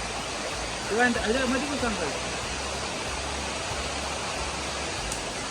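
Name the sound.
water rushing through irrigation channel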